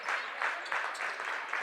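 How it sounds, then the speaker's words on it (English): Home crowd at a girls high school basketball game, Lomira at Howards Grove, cheering and clapping in a gym, moderately distant with rhythmic swells of claps. "Tigers crowd starting to get into it"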